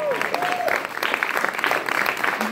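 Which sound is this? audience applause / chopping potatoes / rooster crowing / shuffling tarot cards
audience applause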